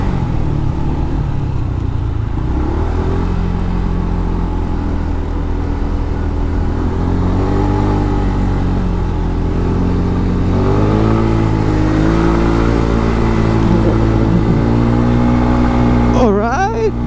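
A Kymco KRV scooter engine drones steadily as it climbs a steep mountain road, its pitch rising and falling with throttle changes, loud and close throughout with another vehicle nearby.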